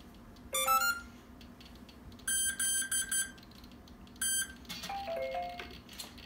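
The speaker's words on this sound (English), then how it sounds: "once you hear the beeps confirming the calibration, you know it was successful" Several short bursts of electronic beeps from an ESC confirming calibration on a Mikado helicopter with VBar Control: a quick rising tone run, then two sets of repeated beeps, ending with a descending sequence of tones.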